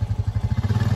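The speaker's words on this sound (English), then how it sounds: "I'll show y'all the automatic downshift one more time" Close, loud engine of a 2020 Polaris Slingshot P5 chugging in a rapid, even pulsing rhythm as the automatic transmission drops a gear, with no voices over it.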